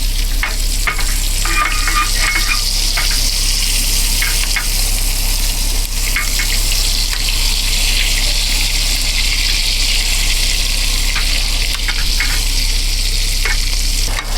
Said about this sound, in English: we're gonna take a spoon and then just let all that juiciness run over the steak